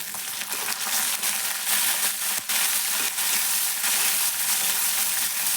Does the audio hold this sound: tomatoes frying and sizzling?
yes